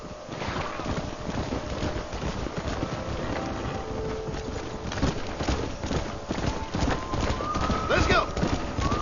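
Rhythmic clip-clop of horse hooves trotting along in the video game Red Dead Redemption, with wind noise and a voice speaking over the steady hoofbeats.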